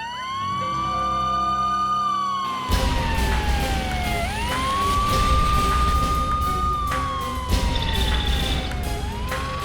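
A fire brigade vehicle's siren wails loud and near, with a rising and falling tone that repeats through the clip over traffic and engine rumble.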